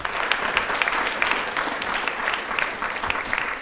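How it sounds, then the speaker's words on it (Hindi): An audience at a question-and-answer programme marking Dr. B. R. Ambedkar's birth anniversary breaks into continuous applause, a dense, even patter of many hands clapping with no talking, holding steady throughout. "एक बार तालियां प्लीज जोरदार हो जाए"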